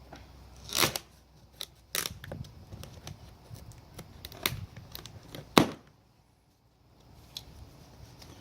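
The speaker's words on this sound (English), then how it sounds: "My trusty knife will cut it open." A knife slices and scrapes through the cardboard and tape of a boxed new T56 Magnum transmission, giving sharp sporadic cuts and rips up close, with one loud snap and then a quiet pause.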